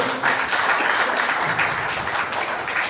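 Steady, dense applause from a crowd at a school farewell ceremony for two retiring teachers, loud and sustained throughout without a break.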